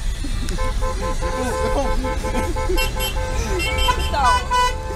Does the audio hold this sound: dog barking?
no